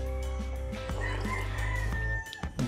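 A rooster crows at five in the morning, a loud, drawn-out call close by lasting a couple of seconds, with a few faint clucks at the end.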